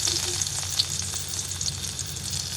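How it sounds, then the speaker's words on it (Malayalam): Garlic and ginger frying in coconut oil for a Kerala-style beef curry, a steady close hiss and crackle of sizzling with occasional sharper pops and faint stirring. "സോ അതിനായി പാത്രത്തിലേക്ക് കുറച്ച് വെളിച്ചെണ്ണ ഇടുന്നുണ്ട്. അതിനുശേഷം അതിലേക്ക് കുറച്ച് ഗാർലിക്കും ജിഞ്ചറും ഇടുന്നുണ്ട്."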